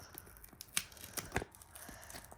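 Paper or a small plastic packet torn apart by hand in a few separate sharp rips, close and fairly quiet, with soft rustling in between.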